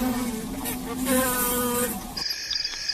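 Buzzing of bees swarming around a honeycomb torn open by a honey badger, a droning insect hum with shifting pitch that drops out near the end, leaving thinner high whining tones.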